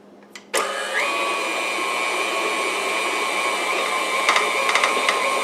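Stand mixer starting up and running through thick sugar cookie dough, a sudden switch-on followed by a steady loud whine with a few clunks near the end, no talk.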